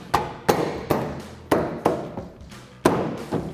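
Sharp, hollow thumps ring out as an LED tail light is tapped into place on a 2007-2013 Chevrolet Silverado 1500. There are about seven close, irregular knocks, each decaying briefly.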